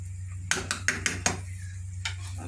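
A utensil stirring chopped bottle gourd (upo) in a metal cooking pot, giving five quick scraping clinks in a row, then a pause and one more, over a steady stove hum.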